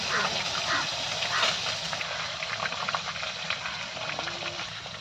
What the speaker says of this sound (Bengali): এখন জল ঝরিয়ে রাখা সিদ্ধ করা বাঁধাকপিগুলো এই গরম তেলের মধ্যে দিয়ে ভালো করে ভেজে নেব